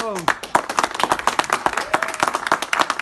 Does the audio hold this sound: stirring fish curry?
no